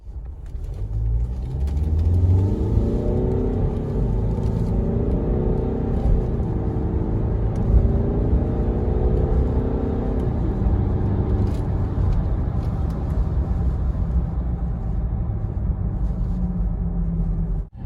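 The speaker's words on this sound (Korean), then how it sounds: "그러면 100km 급가속 한번 해볼게요" A 2015 Land Rover Range Rover Evoque 2.2 SD4 Prestige, rated at 190 horsepower, accelerates hard to 100 km/h. Engine pitch climbs through several gear changes, then settles into a steady cruising rumble over road noise.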